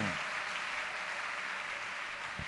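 A church congregation claps in a dense, sustained round of applause, steady and moderately loud, with no speaking over it.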